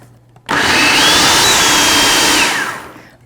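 A blender roars to full speed, loud and close, mixing a peach and cottage cheese ice cream base with peach peel, runs steadily for about two seconds, then winds down.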